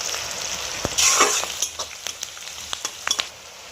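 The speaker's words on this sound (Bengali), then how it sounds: "ক্যাপসিকাম আর পেঁয়াজটা কিন্তু খুব বেশি ভাজলে হবে না, এরকমই ভাজতে হবে।" Capsicum and onion frying in a pan for chilli soybean, a light hiss with a burst of stronger sizzle early on and scattered sharp clicks of a spatula against the pan, no voices.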